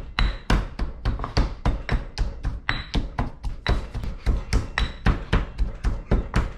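A pestle pounds chili, garlic and sugar into a paste for a Thai omelette, a rapid, even series of close, dull thuds, about three or four per second, with no talking.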